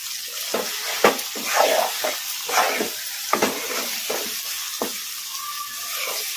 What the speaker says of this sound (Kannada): ಈಗ ನಾನು ಸೈಡ್ ಡಿಶ್ ಆಗಿ ತಿನ್ನೋದಕ್ಕೆ ಒಂದು ಸ್ವಲ್ಪ ಹೈ ಫ್ಲೇಮಲ್ಲಿ ಇಟ್ಕೊಂಡು ಫ್ರೈ ಮಾಡ್ಕೊತೀನಿ